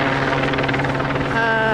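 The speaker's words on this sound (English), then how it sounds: "We can hear the helicopter above it. Yeah, the police helicopter." A police helicopter flies overhead near Downing Street in London, its steady rotor chop loud and continuous throughout, with faint voices beneath.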